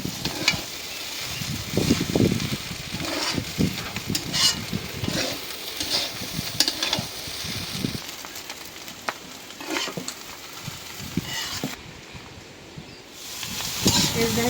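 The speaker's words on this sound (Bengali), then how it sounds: "ভাজা ভাজা হয়ে যেতেছে।" Food fries and sizzles in a kadai with an egg mixture, a steady crackling hiss with stirring scrapes and clatter, close and fairly loud throughout.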